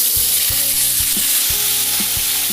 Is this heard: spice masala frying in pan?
yes